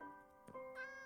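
A cat meows in Minecraft, a short clear tonal meow heard twice over soft ambient game music, close and moderately quiet.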